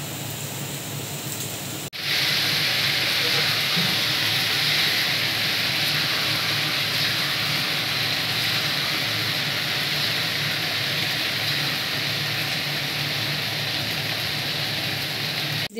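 Leftover-rice snacks sizzle in hot oil with a dense, even hiss that jumps louder after a moment and then holds steady and close without any talk.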